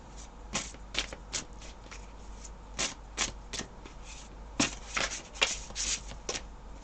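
Oracle cards from a Witch's Wisdom deck are shuffled by hand in a quiet room, producing repeated quick riffling bursts of varying loudness over a faint low hum.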